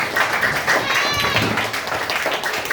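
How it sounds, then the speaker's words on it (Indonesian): A classroom group of children claps in a brief burst of quick, overlapping claps while voices talk over it and the clapping stays partly buried under the chatter. "Tepuk tangan buat kita semua"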